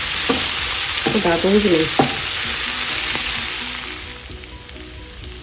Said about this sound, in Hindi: मैं ऐसे भून लूँगी इसको